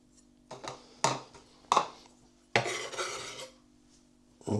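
A knife scraping the jelly from the edges of canned Spam, with several distinct metallic clinks and scrapes against a dish or tin, fairly close and clear, between pauses.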